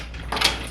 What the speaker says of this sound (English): Let me get the door locked